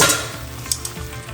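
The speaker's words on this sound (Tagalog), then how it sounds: "after 5 minutes na pagpapakulo ng ating tare sauce, haluin na natin ito" A spoon stirs simmering soy-based tare sauce for shoyu ramen in a pot, a steady close bubbling sizzle with a few light scrapes and clinks against the pan.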